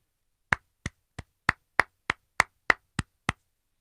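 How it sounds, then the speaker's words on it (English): Ten slow, light hand claps land one by one at an even, unhurried pace, crisp and close, each with a short gap of silence after it, with no voices around them. "It's a little bit of a golf clap"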